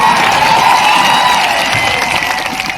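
A large crowd at a tribal community gathering for World Indigenous Day in Dungarpur applauds and cheers in a dense, steady roar of clapping and voices that fills the space without pause.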